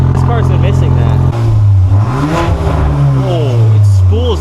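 A modified Volkswagen MK8 Golf R engine revs loudly and close by, with a deep droning tone that steps down and then climbs again while people talk excitedly over it.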